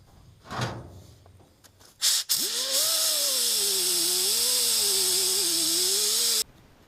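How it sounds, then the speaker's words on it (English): A power tool fitted with a paint stripping wheel grinds rust off a splitting maul head, spinning up with a loud, steady whine that wavers under load for about four seconds before cutting off, after some handling noise. "So using that little paint stripping wheel, stripped it down"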